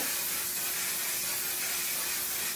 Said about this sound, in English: I'm going to go in with my setting spray